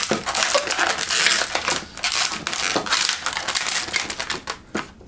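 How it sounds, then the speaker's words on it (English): Rubber balloon being twisted into small fold twists for a giraffe's ears, giving dense squeaky rubbing and crinkling close up, in irregular bursts with no talk. "Now I need 2 more fold twists, but these need to be smaller than the first 2 we made."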